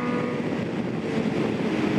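A Hornet motorcycle rides along an Arizona road, a steady, loud engine drone mixed with heavy rushing wind noise.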